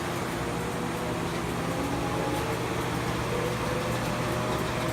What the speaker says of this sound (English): Now the vacuum pump is turning on.